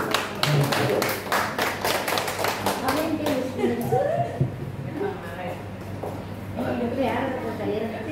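Live audience at a business seminar in Sinjai breaks into steady hand clapping, dense and fairly loud, with some voices and cheering mixed in before it thins out.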